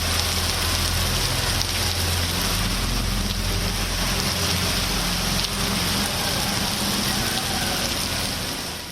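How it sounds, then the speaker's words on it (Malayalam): Heavy rain pours down steadily across Delhi, a dense, unbroken hiss of downpour with a low rumble underneath, close and loud throughout with no voices. "കഴിഞ്ഞ 24 മണിക്കൂറിനുള്ളിൽ ഡൽഹിയിൽ അതിതീവ്ര മഴയാണ് പെയ്തത്."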